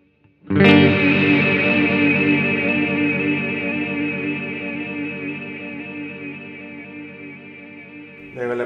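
Electric guitar chord run through an EarthQuaker Devices Transmisser reverb pedal, struck once and left to ring in a long, shimmering wash of reverb that fades slowly over several seconds before another strum enters at the end.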